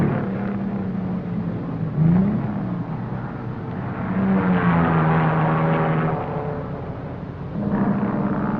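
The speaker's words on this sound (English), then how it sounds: "Now booming out of a right-angled bend down the north-south runway, the field screams through the first lap" Racing cars at the 1957 Sebring 12 Hours blast out of a right-angled bend down the north-south runway, engines droning and whining steadily at a distance, with rising and falling pitch as the field passes.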